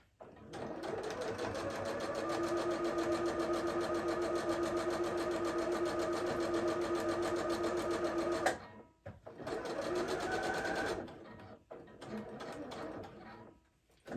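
A sewing machine stitches the front panel of a sewing project in a loud steady mechanical whir for about eight seconds, stops, then runs two shorter bursts with handling clicks between, no talking.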